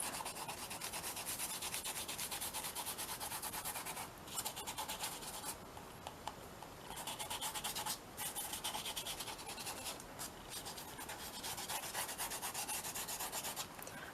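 Excess gold leaf is rubbed off a mixed media collage by hand, making a close, continuous dry rubbing and scratching sound in quick repeated strokes, broken by a few short pauses.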